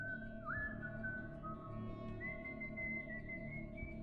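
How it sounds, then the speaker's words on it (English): A person whistles outside at night, a slow, broken, off-key tune of long sustained notes that slide between pitches, faint and alone over a low steady background hum. "I was almost asleep when I heard whistling outside."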